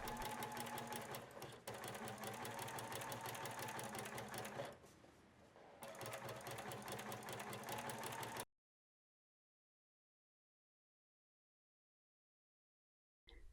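Sewing machine stitching two rows of narrow zigzag on a swimwear seam, a rapid, steady mechanical chatter close by with one short pause midway, then falling silent.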